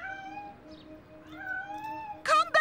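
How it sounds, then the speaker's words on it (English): A cartoon cat lets out drawn-out, wavering meows followed by a sharp, loud yowling burst at the end, fairly close with faint background sound. "Come back here, kitty!"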